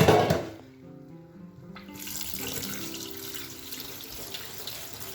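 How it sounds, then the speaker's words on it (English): Cooked macaroni water pours from a pot into a kitchen sink, a steady splashing rush that follows a brief loud burst and runs on at moderate volume with no voices. "our pasta is ready, so let's drain it in there"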